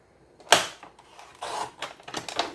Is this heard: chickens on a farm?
no